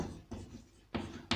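Chalk strikes and scratches across a classroom board during a maths lesson, about three or four short close taps and strokes, each separated by brief pauses, with no one speaking.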